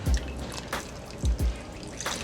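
Worcestershire sauce drips and splashes into a pressure cooker in a few soft, close plops.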